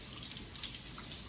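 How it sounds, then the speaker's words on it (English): Tap water runs steadily over a loaf of bread under a kitchen faucet, a constant soft splashing hiss with no voices. "I'm gonna run this under the water like I'm told it's supposed to work."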